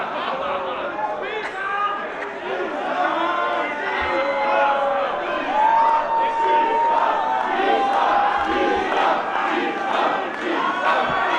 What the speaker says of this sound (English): And Saim rallies this capacity crowd at the skate park